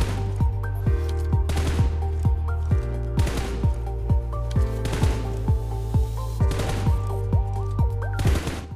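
Rapid rifle gunfire in the BGMI mobile shooter, sharp shots repeating at a quick irregular rhythm over a constant low tonal game hum, with no voices.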